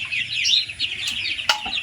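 Young Tiger breed chickens cluck close by in quick, overlapping calls, with a sharper squawk near the end.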